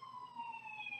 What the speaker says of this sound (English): There's so many sirens.